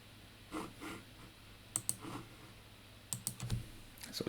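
Quiet clicks of typing on a computer keyboard while correcting a homework answer, in short irregular bursts of a few keystrokes separated by pauses, close and faint.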